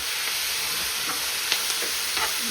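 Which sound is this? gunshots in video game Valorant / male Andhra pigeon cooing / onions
onions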